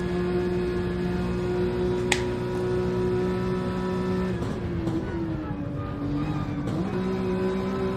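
Race cars including a Porsche, AMG and McLaren run down a straight at Bathurst in a racing game, with several engines droning together in a steady, loud tone that shifts pitch midway as they jostle.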